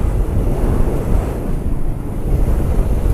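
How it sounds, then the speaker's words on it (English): Heavy wind buffeting a microphone on a moving Suzuki TU250X motorcycle, a steady loud low roar that goes on without a break and with no voices. "Damn it, it's windy."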